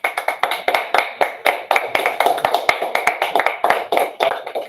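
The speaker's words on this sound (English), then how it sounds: "Half the class is getting tired of clapping." A class clapping together, a dense run of sharp hand claps in a fast, slightly uneven rhythm, loud and close, lasting the whole time with no voices.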